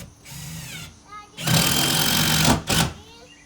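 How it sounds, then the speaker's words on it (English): A power driver sinks screws into a shed wall with two whirring bursts, a long one followed by a short one, loud and close, after a brief stretch of talk. "you want to get your screws sunk all the way"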